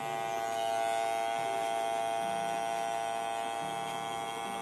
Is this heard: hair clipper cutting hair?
yes